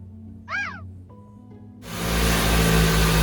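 A car pulls away with a swelling, rumbling engine roar that builds and holds loud, preceded by a short cat meow and a brief quiet pause.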